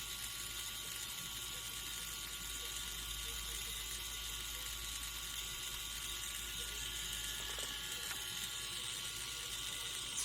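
An electric resin mixer spinning to fling off excess epoxy resin, giving a continuous faint whirring motor hum with a slight rattle, steady from start to finish.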